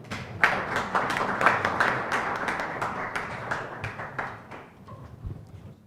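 An audience at an economic policy seminar applauds the incoming session chair, a burst of steady clapping that thins out and fades toward the end.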